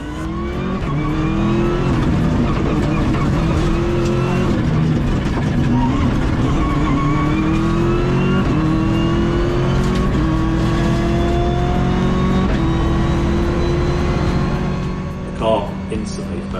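A race car drives hard along a track with long straights, its engine loud and close throughout, revs climbing again and again through a series of upshifts.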